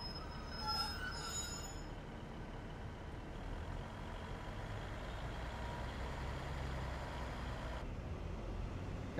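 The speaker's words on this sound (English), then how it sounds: "it's applied the bloody brake now, isn't it?" Steel wheels and brakes of a Class 150 diesel multiple unit in Train Simulator Classic squeal steadily over a continuous rumble, with high shrill tones strongest in the first two seconds before settling into a sustained grinding hiss.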